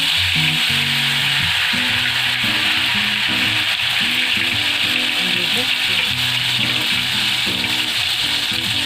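Ghewar batter drizzled into hot oil fries in a loud, continuous sizzle and bubbling foam, with low clanks and stirring sounds beneath.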